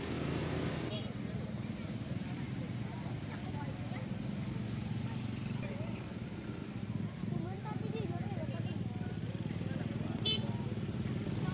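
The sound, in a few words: motorcycle gang convoy on a road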